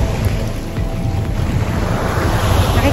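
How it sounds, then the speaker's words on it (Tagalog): Strong sea waves wash and churn at Marina South Pier, a steady loud roar of surf mixed with heavy wind buffeting the microphone, with no talk. "Ayan yung lakas ng alon."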